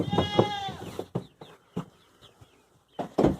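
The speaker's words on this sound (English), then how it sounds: "got goats headbutting each other and headbutting me because they're mad." Goats bleating repeatedly, a couple of loud nasal calls at the start and end with shorter, fainter bleats scattered between, close by.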